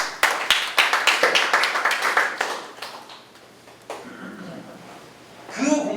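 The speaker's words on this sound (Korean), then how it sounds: "이것도 박수 한번 해주시죠." An audience at a union meeting claps in a brief, fairly close burst of rhythmic hand claps that fades out, followed by quieter room noise and a short voice near the end.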